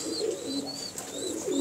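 Pure Kasuri pigeon cooing at close range in a loft in Faisalabad, a soft, steady run of throaty coos with a low warble that rises and falls across the whole moment, with no talking.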